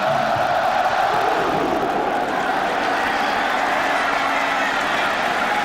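Dense, sustained roar of a stadium football crowd at BYU versus Florida State in 2010, a broad continuous wash of cheering voices holding steady throughout.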